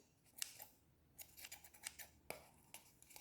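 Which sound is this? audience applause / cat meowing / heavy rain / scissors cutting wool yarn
scissors cutting wool yarn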